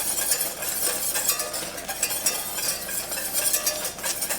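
A spoon stirs thickening blueberry syrup in a pan over the heat, giving a continuous, close, bubbling scrape with no voices.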